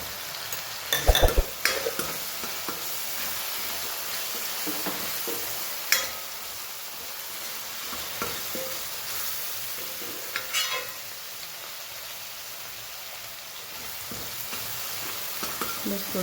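Tomatoes cooking in a pan with turmeric, salt and spices, a steady soft sizzle running throughout with a few clinks and stirring knocks, no talking.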